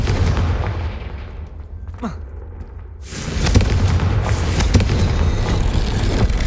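Hogwarts Legacy Confringo spell: a descending whistling streak followed by a sudden loud burst that opens into a sustained booming, crackling rumble, near and dense.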